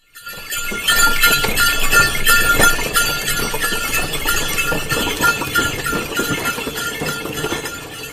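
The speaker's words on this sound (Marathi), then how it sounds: "बैलगाडी" A bullock cart rolls along with clattering wooden wheels, jingling bells and hoof clops, with animal noises mixed into a busy, steady rattle.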